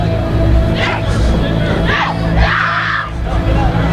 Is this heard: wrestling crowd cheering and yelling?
yes